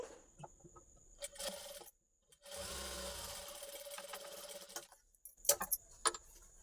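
Sewing machine stitching a lehenga blouse, running in two short bursts of rapid whirring separated by pauses, with small clicks and handling noises between them.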